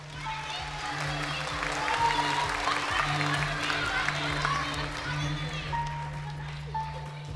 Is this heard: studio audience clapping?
yes